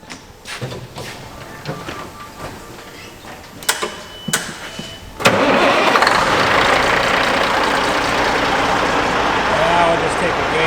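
A Kenworth W900 truck engine with a newly fitted turbo cranks and fires up, settling into a loud, steady running roar after a few seconds of clunks and background noise.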